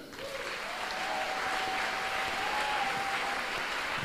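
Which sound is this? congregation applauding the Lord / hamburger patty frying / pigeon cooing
congregation applauding the Lord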